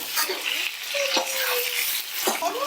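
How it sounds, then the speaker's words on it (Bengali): Potatoes tossed and fried in hot oil for a vegetarian aloo dum, a close, steady sizzle with a few scraping stirs and light knocks of the spatula against the pan. "আমি একটু তেলের সাথে ভালো করে আলু মিশিয়ে নিচ্ছি"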